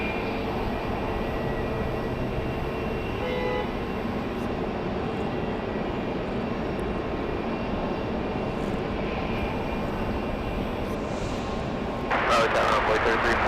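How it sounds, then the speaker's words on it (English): A Delta A320 airliner's engines roar steadily at Raleigh Durham airport on a rainy day, a broad, sustained rumble with hiss, and a sharper burst of noise near the end. "it does look like the Delta A320 is about ready to go"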